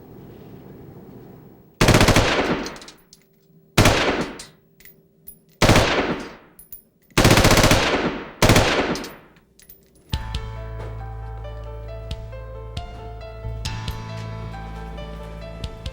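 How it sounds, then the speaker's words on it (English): Handgun test-fired by a ballistics examiner in a police firearms lab: five loud, sharp shots spaced about two seconds apart, each ringing briefly, then a sustained tonal drone to the end. "To see if a particular gun had been used in a crime, a ballistics expert test fires it."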